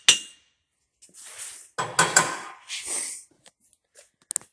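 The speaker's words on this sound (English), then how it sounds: "I'll grab the hammer here. Do a little tap." Hammer taps on an adjustable heavy-duty sawhorse under a one-ton welding table: a sharp opening knock, then a few scraping and rattling metal contacts and small clicks, close and fairly loud.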